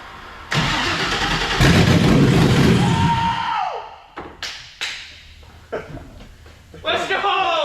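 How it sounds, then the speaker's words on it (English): An LS V8 swapped into a Honda S2000 cranks briefly, then catches and roars to life with a loud burst before settling and revving in uneven surges; excited voices shout over the engine near the end. "I just got the car running"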